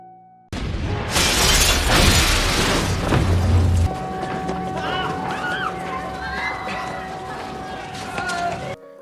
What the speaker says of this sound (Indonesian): tiba-tiba suara bom mulai terdengar dan membuat situasi menjadi kepanikan